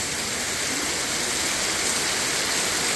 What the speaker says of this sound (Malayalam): ഈ മഴ നല്ല മഴ.